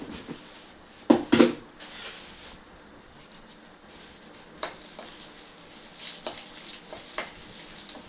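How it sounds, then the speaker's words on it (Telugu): Mustard seeds, cumin and urad dal crackle and fry in hot oil, with a burst of sharp popping early on and then a steady low sizzle broken by scattered spits and pops. "ఒక 1/2 స్పూన్ ఆవాలు, 1/2 స్పూన్ జీలకర్ర, కొంచెం మినపప్పు. ఇవి కొంచెం ఫ్రై కావాలి"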